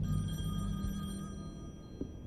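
Telephone ringing in The Wolf Among Us, in a residence: a steady electronic ring with sustained tonal partials under a low background hum, fading partway through, with no talk.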